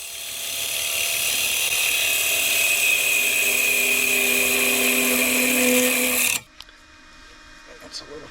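A bowl gouge cuts a warped bowl spinning on a wood lathe, giving a steady loud rasping whir with a faint vibrating whine, which stops abruptly after about six seconds and leaves a few small clicks.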